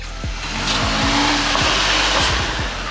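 A Baja race hot rod truck fitted with new suspension drives past loudly, its engine roaring steadily while repeated low thumps and bumps from the suspension and tires punctuate the run.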